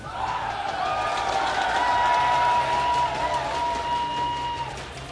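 A large live crowd cheers and applauds at a StarCraft 2 esports match, a steady roar of voices and clapping holding loud throughout, with game tones ringing over it.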